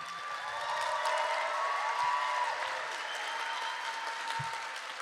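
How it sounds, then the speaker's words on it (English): Audience applause for the poets after a round of scoring at the Verselandia 2024 poetry slam, a steady, dense wash of many hands clapping that swells and holds evenly throughout with no one speaking. "give it up for every poet you heard in this round"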